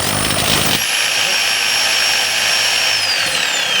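A DeWalt D25810 5-kilo jackhammer chipping after an armature and bearing replacement: a loud, continuous buzzing hammer rattle close up, its motor pitch shifting slightly downward toward the end.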